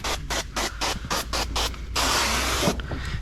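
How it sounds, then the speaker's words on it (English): Short hissing bursts from a hand spray bottle wet the window of a 2015 Ram truck before tint film goes on, several quick pumps in a row followed by a longer, steady spray, close and clear. "we are going to spray this window down"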